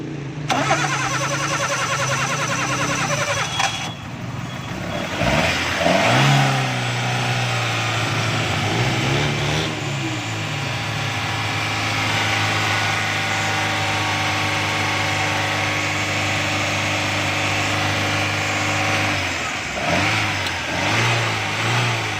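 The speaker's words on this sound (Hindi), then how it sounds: "गाड़ी स्टार्ट करें।" A car engine running on CNG settles into a steady, continuous idle hum with a brief rev early on, loud and close, with no talking.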